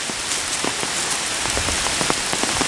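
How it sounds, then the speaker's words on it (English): Steady rain pattering on a surface, with scattered louder drops tapping irregularly throughout. "Here comes the rain, Henry."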